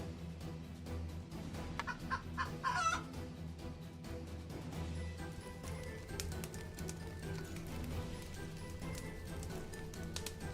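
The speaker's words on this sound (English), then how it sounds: "use fences to form a closed space at chicken food trough, and you can raise chickens" Chickens cluck faintly in a colony-building video game that mixes Rimworld-style play with Dawn of Man, giving brief bursts of clucking under a steady background of game ambience.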